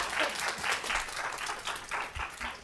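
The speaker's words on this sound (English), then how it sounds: "I can appreciate that you're happy and that you want to clap" Audience members at a city council meeting clap together in a brief, steady burst of applause with no talk over it.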